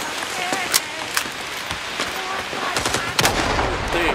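Gunfire in the Vietnam War shooter Rising Storm 2: Vietnam, with sharp rifle shots and short bursts scattered irregularly over a busy battlefield, some close and loud, alongside shouted voices.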